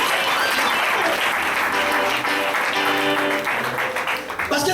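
Congregation in a church clapping together in sustained, dense applause, loud and close, with faint voices and a musical tone underneath as it carries on and begins to taper at the end.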